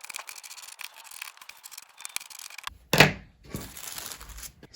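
Scissors cut through fabric for a Regency apron, a run of soft, close crisp snipping and rustling, then a sharp clack, a brief pause and more cloth rustle.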